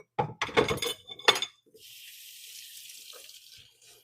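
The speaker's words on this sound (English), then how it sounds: "And then I'm going to give my hands a quick rinse." A kitchen tap runs steadily as hands are rinsed after handling fried pork tenderloin, a broad hiss of water lasting a couple of seconds and following a few clinks and knocks of dishes.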